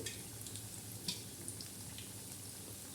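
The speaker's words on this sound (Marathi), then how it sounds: "आता हे रुचक लागणारे खमंग लागणारे भजे हे मस्तपैकी आता तळत आहे" Onion bhaji fritters deep-frying in hot oil, a steady dense crackling sizzle throughout with a few brief sharper pops, close and moderately quiet, no voices.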